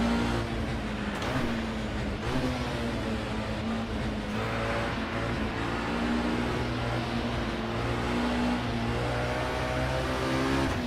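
A Ferrari 250 race car roars through a historic Le Mans sim race, the engine loud and continuous with pitch swings as it changes gear, braking and accelerating through the corners.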